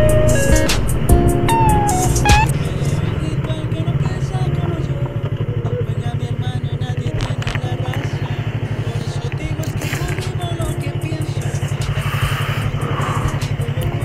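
Yamaha R3 motorcycle ridden along a wet mountain road, its steady engine drone loud and continuous throughout, with brief rising revs early on.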